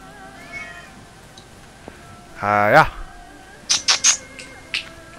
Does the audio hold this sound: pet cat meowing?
yes